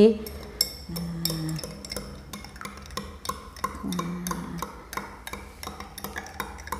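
A spoon stirring sweet tea in a glass, a steady series of light clinks and taps against the glass, close and clear, with someone talking over it at points.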